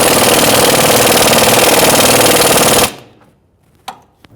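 A rapid, loud rattling impact wrench hammers on the rear strut pinch bolt of a 2000-2007 Ford Taurus 3.0L V6, running continuously for about three seconds before stopping abruptly, followed by a couple of small metallic clicks.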